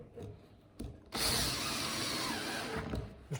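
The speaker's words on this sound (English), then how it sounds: "Turn that from drill to screwdriver and just guess your torque." A cordless drill set to screwdriver mode whirs into a screw for about two seconds after a couple of short taps, close and fairly loud, then stops.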